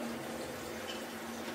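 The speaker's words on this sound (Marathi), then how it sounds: "पाणी घालू." Steady running water poured into a cooking pot of dal, a continuous wash of sound at moderate level with no talking.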